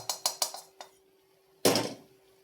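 A spoon clanks against a pan as beef is stirred into sautéed tomatoes: a quick run of sharp metallic taps, a pause, then one louder, rougher scrape.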